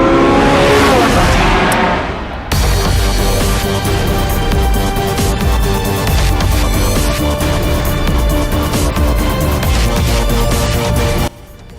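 A Porsche 918 Spyder's 4.6-liter naturally aspirated V8 roars loudly and continuously, rising and holding at high revs, with a brief lull early on before the sustained blare.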